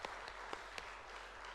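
Church congregation and women's mission group clapping together, a short, steady patter of applause with a few sharper individual claps standing out, moderately close and fairly soft.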